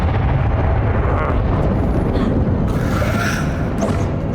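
A Confringo fire spell explodes in the Hogwarts Legacy video game, a loud, continuous roaring blast with crackling bursts that stays dense and full for several seconds.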